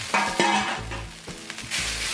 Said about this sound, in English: Get them frying up.